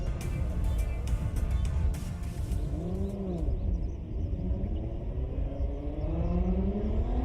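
A JZX100 Cresta drift car on a qualifying run at Formula Drift Japan, its engine rumbling and revving in sweeping rises and falls over a steady, loud roar, with a few sharp clicks early on.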